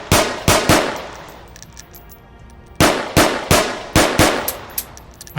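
Glock 17 pistol firing in Onward VR, sharp single shots in two quick strings, five then six, loud and close with a short pause between the groups.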